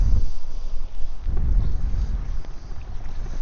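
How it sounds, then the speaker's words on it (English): Strong, gusty wind buffets the microphone while fishing for catfish on the water, a loud low rumble that surges and eases throughout. "Boy, this wind is vicious now."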